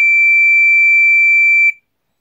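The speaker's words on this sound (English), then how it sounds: "This is actually the very first, I think, alarm with a continuous piezo that I own." An Entronic Vigilante ES-3 smoke detector sounds its test alarm through a continuous piezo, a loud, piercing steady tone that holds unbroken for nearly two seconds, then cuts off abruptly into silence.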